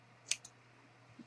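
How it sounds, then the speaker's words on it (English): Scissors snipping off the excess yarn tail of a left-handed crochet hat: one crisp close snip followed by a softer second click, otherwise quiet. "I'm just going to cut this excess"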